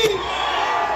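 Crowd noise at a scissors dance competition in Huari, a broad roar with whoops and shouts swelling briefly, loud and continuous through the short moment.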